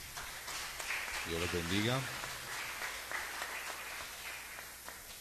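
Churchgoers clap for a couple during a Saturday Mass in a parish church, a sustained wash of applause filling the room while someone speaks briefly over it.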